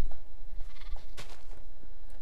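Sheep in the Voltz modpack for Minecraft bleat in short, close bursts over a low, steady background hum.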